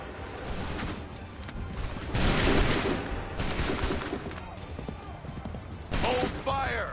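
Soldiers fire musket volleys in Assassin's Creed III, loud crackling bursts of gunfire rolling out in clusters amid battlefield clatter, with people talking in between.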